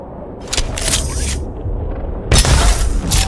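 An energy gun fires in the video game ECHO: two loud, bright discharges, each with a deep rumbling body. The first lasts about a second, and a second strong blast comes after a short pause.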